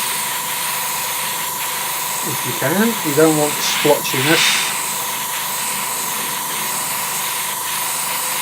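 An airbrush spraying candy colour paint onto a model aircraft gives a steady, continuous hiss throughout, with someone speaking briefly over it in the middle.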